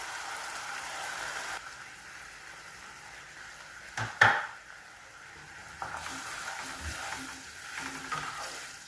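Chili and poppy seed paste simmering in a pan with a soft steady sizzle, a spoon scraping and clinking sharply once midway, then quiet stirring under the low bubbling.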